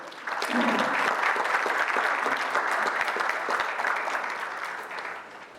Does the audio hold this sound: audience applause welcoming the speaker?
yes